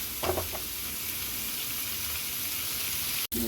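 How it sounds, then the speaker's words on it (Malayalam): Paneer sautéed in butter in a pan, gently stirred, giving a steady close sizzle with a few brief scraping stirs near the start. "ഈ ബട്ടറിലിട്ടൊന്ന് സോട്ട് ചെയ്തെടുക്കണം നമ്മൾ ഇതിങ്ങനെ പതിയെ പതിയെ ഒന്ന് അനക്കി കൊടുത്താൽ മതി"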